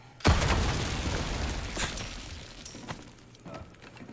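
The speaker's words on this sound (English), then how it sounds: "Oh, it was a bomb." A bomb explodes in the Resident Evil 4 Remake video game, a single loud, close boom with a long rumbling tail that fades over a few seconds, followed by scattered smaller pops and debris.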